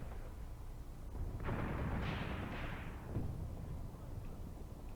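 Mortar fire in the Graviteam Tactics war game: a dense rumble of distant launches and impacts swelling for several seconds and overlapping, over a constant low battlefield din.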